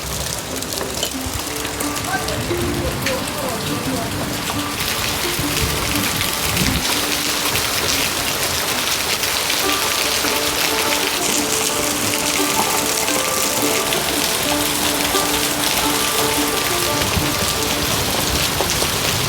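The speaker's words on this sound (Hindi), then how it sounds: "अब बाहर बारिश के साथ ओले भी गिरने लगे हैं छोटे छोटे।" Heavy rain mixed with small hailstones pours down outdoors in a mountain village, making a dense, loud, unbroken hiss and patter throughout.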